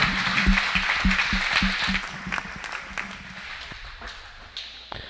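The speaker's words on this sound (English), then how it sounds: "Let's give them another round of applause." Spectators in a school gym applaud the seniors at a volleyball game, with sharp, distinct claps and dull thumps early on that thin out and fade into scattered claps.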